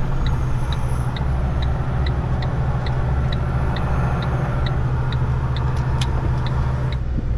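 A car accelerating on the M7 highway, its steady engine and road roar continuous and loud throughout, with a faint regular ticking running over the top.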